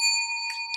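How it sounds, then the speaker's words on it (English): A bell rings once during a sports talk show, its clear, bright tone holding steady and slowly fading without any talk over it. "Let's ring the bell for that."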